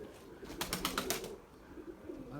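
A pigeon flapping its wings, a white male Bucalı tumbler pigeon, gives a quick burst of several wingbeats, near and moderately loud, followed by soft rustling and faint bird movement.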